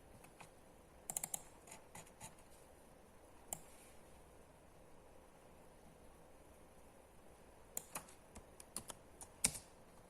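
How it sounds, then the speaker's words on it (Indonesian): Typing a spreadsheet formula on a computer keyboard, short bursts of quick keystrokes separated by quiet gaps over faint background hiss, with no voices. "kita ketik sama dengan sum"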